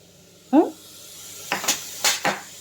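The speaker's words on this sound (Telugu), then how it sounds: "ఇప్పుడు ఒక్క నిమిషం మూత పెట్టి ఉంచుతానే" Metal lid set onto a cooking pot with several short clanks and taps, near and moderately loud, among light kitchen clatter while brinjal and rice are being cooked.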